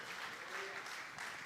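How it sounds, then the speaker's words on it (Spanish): A church congregation applauds during a bilingual worship service, a steady wash of many hands clapping at a moderate distance, with faint voices mixed underneath throughout. "Denle un aplauso al Señor"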